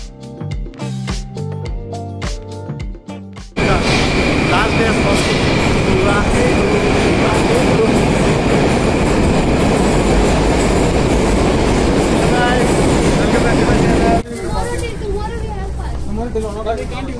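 A Moscow metro train rides through a tunnel with a loud, continuous rumble and roar of wheels on rails. It follows a few seconds of clattering and ends with a quieter platform stretch.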